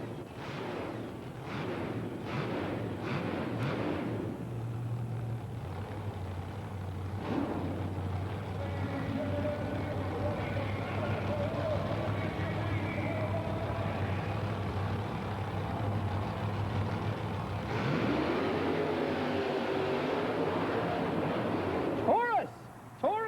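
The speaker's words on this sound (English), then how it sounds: "this is what we call a racer monster truck. A lightweight, high horsepower combination" Lightweight, high-horsepower racer monster trucks run side by side at a 1990 USHRA monster truck event in Orlando, with sharp bangs early, then a long, loud, rumbling engine drone and crowd noise and an announcer over it.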